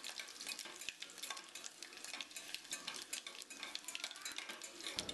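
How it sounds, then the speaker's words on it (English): Whole garlic cloves frying in hot oil for tomato dal rasam, heard as a steady close sizzle and crackle with occasional spoon stirring against the pan, continuous and without talk. "Once they start crackle, add garlic cloves."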